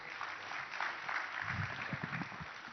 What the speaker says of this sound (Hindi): आप तालियों से स्वागत करिए